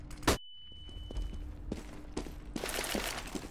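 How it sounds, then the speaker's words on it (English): A flashbang grenade pops once loudly and sharply in Counter-Strike, followed by a long high ringing tone, then quieter footsteps and game noise building into busier gunfire-like clatter. "I'm throwing a flashbang."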